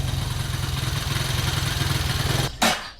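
A motorcycle engine idles on choke, running with a rough, steady pulsing throb close by, then sputtering and nearly stalling near the end with a sudden clatter.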